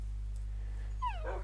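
Minecraft dogs give a brief pair of high, sliding whimpers near the end, over a steady low game hum, with no talk.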